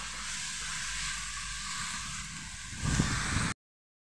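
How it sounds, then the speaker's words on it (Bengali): Onion frying in a pan with ginger, garlic, dried and fresh chilies, a steady close sizzle that swells slightly louder near the end before cutting off abruptly. "এবার আমি পেঁয়াজটার সঙ্গে ভালোভাবে এগুলোকে ভেজে নেব।"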